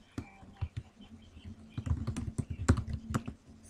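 Someone types a first and last name on a computer keyboard in Microsoft Office on Windows. The keystrokes are close and come in uneven bursts that build toward the end, and no one speaks.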